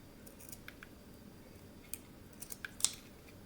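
Scissors snip through playing card pieces in a few quiet, scattered cuts, with small crisp clicks of the blades over low background hiss.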